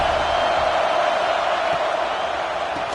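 A constant, steady roar of stadium crowd noise from the College Football 26 video game during a Notre Dame versus Cal matchup, loud and unbroken throughout.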